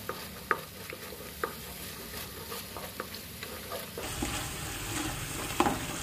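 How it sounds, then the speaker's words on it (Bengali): Spice paste for paneer kofta stir-fried in a pan, a steady sizzle with scattered scraping taps of a spoon, growing louder and denser in the final seconds. "আমার মশলাটা কষানো হয়ে গেছে"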